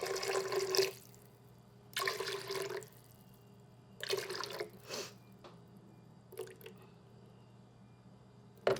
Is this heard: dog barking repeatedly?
no